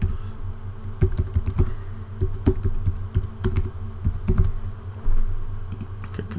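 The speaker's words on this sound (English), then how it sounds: "enter the valid email address. So we're just going to literally just type in my one temporary at the moment" Keys clatter on a computer keyboard as an email address is typed during a software setup. The keystrokes come close and fairly loud in irregular bursts, with no talking.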